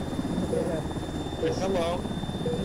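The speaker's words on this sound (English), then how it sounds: "I thought I heard drones from that." Drones in a military video game hover overhead with a steady, loud whirring drone that runs unbroken through the whole stretch, while a voice speaks briefly on top.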